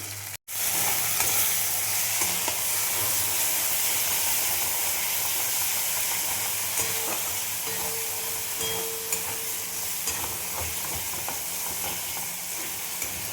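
Bengali fish curry spice paste of tomato, green chilli and red chilli powder fries in oil with a steady, loud sizzle and hiss, broken by faint stirring scrapes, with no voices throughout.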